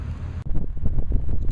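Wind gusting across a desert par-3 golf course, a steady low rumble of buffeting against the microphone that surges after a brief lull and keeps roaring throughout.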